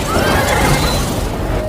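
A loud horse neigh rings out in a scene from the film The Monkey King 2, with a long whinny rising over a dense, rumbling, effects-heavy film soundtrack.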